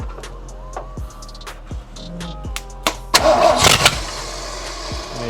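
A carbureted V8 swapped into a Nissan S14, primed with a few carburetor pumps, cranks in a slow rhythmic churn and catches after about three seconds, flaring into a loud, rumbling start up close.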